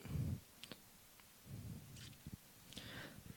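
A mouse click on a Create button lands as a few faint, sharp clicks scattered among soft low bumps and handling noise in a quiet room.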